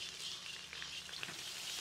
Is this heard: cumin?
yes